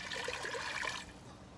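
Filtered water poured into a pot for a hard-water chemistry test, a brief splashing trickle that fades out after about a second.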